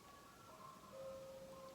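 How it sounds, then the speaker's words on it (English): An ice cream truck passes by playing its tinny melodic chime tune, steady sustained notes heard faintly at a distance over quiet background noise. "The ice cream truck is here."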